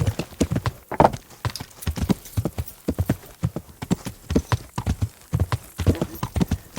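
In the video game Kingdom Come: Deliverance, a horse's hooves clip-clop steadily at a brisk, even pace, close and clear, for several seconds.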